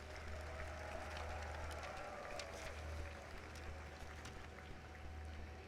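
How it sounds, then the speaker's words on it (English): An audience at a university convocation ceremony applauds in a large hall, a faint, steady patter of many hands heard from a distance under a low hum. "So how about a round of applause for your parents and your faculty members?"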